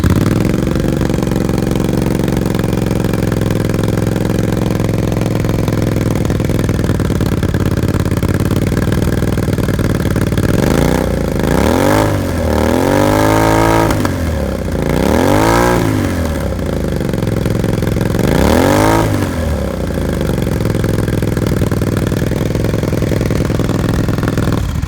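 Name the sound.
motorcycle engine revving through exhaust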